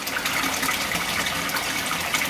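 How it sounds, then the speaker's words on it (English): Water splashes and gushes steadily into a wetland filter box, a continuous loud rushing and spattering with no pauses. "a lot of splashing going off"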